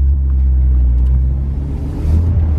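A Corvette rolls up to a 4am street car meet, its deep, steady engine rumble loud and close throughout, with a slight swell toward the end.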